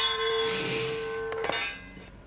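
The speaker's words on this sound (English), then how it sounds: "Get one wrong and it's a bong on the gong, and you're gone." On a game show, a gong is struck once, a bright ringing tone that swells and slowly fades, followed by a sharp metallic knock near the end.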